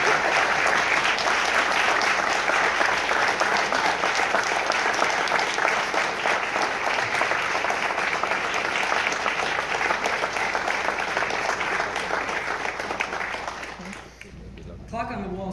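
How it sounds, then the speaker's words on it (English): Audience at a New York State Bar induction ceremony applauds in a long, dense burst of clapping that holds steady, then thins and fades near the end. "give them a round of applause for their support"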